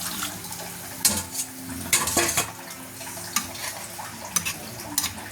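Chicken curry with vegetables cooks in a pot while a utensil stirs and scrapes against the metal, giving close, irregular clinks over a steady bubbling, sizzling bed.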